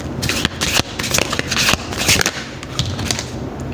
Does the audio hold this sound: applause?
no